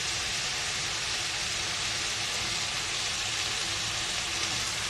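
Cooking wine simmers and sizzles steadily in a hot pan, a loud continuous broadband frying hiss that holds unchanged for the whole stretch with no talk over it.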